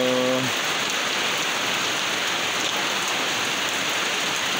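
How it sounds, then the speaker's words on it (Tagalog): Morning rain falling steadily in an even hiss of drops on surfaces, close and continuous, after a short tonal sound at the very start. "Wala tayong magawa kasi umuulan."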